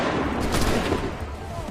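Musket volley in the Assassin's Creed 3 video game: a dense, noisy crackle of massed gunfire that stays loud and continuous for the whole stretch, close and unbroken, with no clear separate shots.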